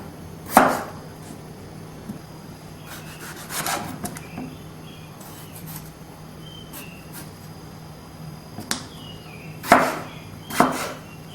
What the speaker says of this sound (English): The smaller you chop your potatoes, the faster they cook.